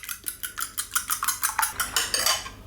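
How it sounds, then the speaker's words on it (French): Eggs being whisked for an omelette, a fork or whisk striking a bowl in a quick, steady rhythm of about a dozen close, sharp clicks, alone without talk. "Je commence par battre mes œufs en omelette"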